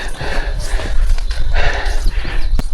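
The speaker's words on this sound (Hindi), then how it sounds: "घोड़ा भी उतरने से इनकार कर रहा है बेचारा" A horse walks down a mountain trail between Thal Bazar and Jahaz Banda in Pakistan, its hooves clip-clopping close by in an uneven rhythm, with voices talking in the background.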